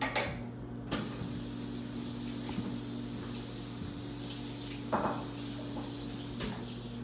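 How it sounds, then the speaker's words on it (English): Food is rinsed under a running kitchen tap, giving a steady, fairly faint hiss of flowing water with a low hum and a few soft splashes and clinks. "Here, and I'm going to go ahead and rinse those."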